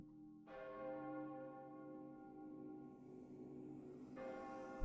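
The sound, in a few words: bell tolling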